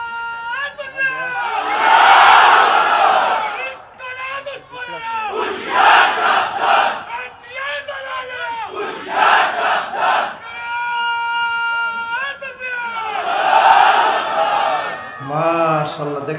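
A large crowd at a Bangla religious sermon gathering shouts takbir without a microphone. Loud unison call-and-response chants rise and fall in several long waves, with a single voice leading between them.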